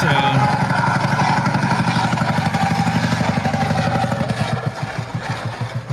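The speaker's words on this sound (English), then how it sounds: "Oh, he blew his engine." A nitrous-fed motorcycle engine runs roughly after blowing, a close, loud, rapidly pulsing mid-pitched chug that holds steady before fading slightly at the end.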